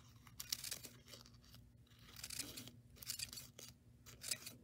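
Scissors snip through paper while cutting shapes for homemade paper flowers, a series of crisp, close cuts arriving in short irregular bursts over a faint steady hum.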